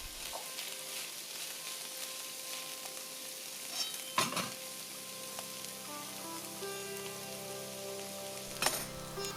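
Vegetables being sautéed in a pan, a soft, continuous crackling sizzle with a couple of louder clatters of stirring, fairly quiet and steady, with a faint tonal hum beneath.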